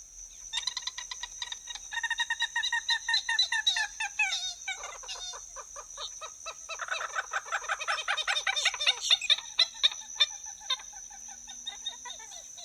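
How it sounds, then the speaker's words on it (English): A common gallinule gives rapid, chicken-like clucks and cackles in repeated bursts in a marsh, loud and close, with a steady high insect-like drone behind. "Common gallinules make all sorts of chicken-like clucks, wheenies, cackles, squawks, and yelps."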